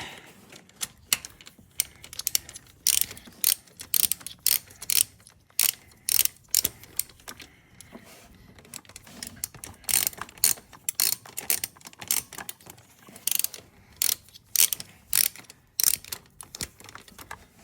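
A ratchet clicks rapidly in repeated bursts while tightening a screw on a bell housing cover of a GT86, sharp close mechanical ticking with short pauses between runs.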